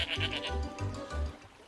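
A goat bleats on a farm in several quick, wavering calls, loud and close, with short pauses between them.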